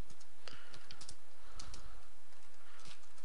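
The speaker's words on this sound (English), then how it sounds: "I'm going to type in" Keystrokes on a computer keyboard while entering a name during a Debian 6 Squeeze install in VMware, a quick irregular clatter of close, soft clicks with short pauses, no talking.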